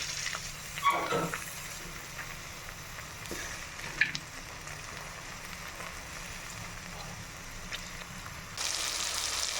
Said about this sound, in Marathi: आता याच्यामध्ये मी टोमॅटो ॲड करते